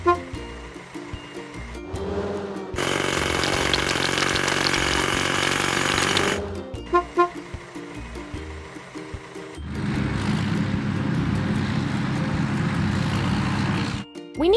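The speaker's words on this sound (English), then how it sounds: "Hydraulic hammer." Loud, sustained mechanical hammering of a hydraulic hammer breaking rocks in a children's construction video game, in long stretches with short pauses and small clicks between bursts, game-like and steady.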